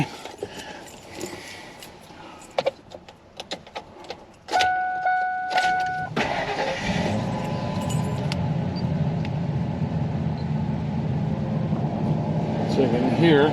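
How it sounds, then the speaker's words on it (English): A 2000 Ford F-250 pickup's 5.4-liter engine cranks briefly and catches at about four and a half seconds, then settles into a steady idle, with a few clicks and rustles before it starts. "let me go start the engine up"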